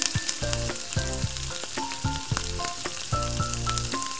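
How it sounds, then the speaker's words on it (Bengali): Tomatoes frying in a pan for sabu khichdi, a continuous bright sizzle broken by repeated knocks and scrapes of stirring at an irregular rhythm. "টমেটোটা ভাজা ভাজা হতে থাকুক"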